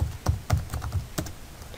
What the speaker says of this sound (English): It's just type and press enter to send.